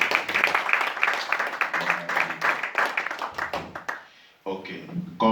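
An audience applauds at a gathering, with uneven clapping from a modest crowd that gradually thins, then a voice starts talking once the applause ends.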